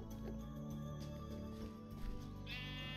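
Sheep bleating in Minecraft Skyblock, a few short game-style bleats layered over steady background game music and sound effects, moderately loud and without talk.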